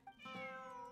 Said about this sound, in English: Good kitty.